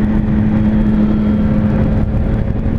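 A Triumph Street Triple S 660 motorcycle cruises in sixth gear on light throttle, its engine holding a steady, loud, even drone with a constant low hum and faint wind rush.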